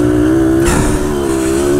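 A Yamaha DT-180 dirt bike engine revs loudly on a trail, a steady buzzing drone that surges sharply in the middle before settling back to a constant close roar, with no talk.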